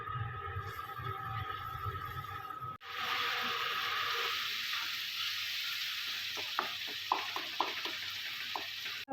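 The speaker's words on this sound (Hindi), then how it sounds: "अब मैं 5 से 7 मिनट तक जो है ना वो स्पाइसेस को मसाले में भूनूंगी जब तक ये ऑयल ना छोड़ दे" Spices frying in oil in a pan for kadhi, a steady close sizzle with occasional stirring scrapes and clicks.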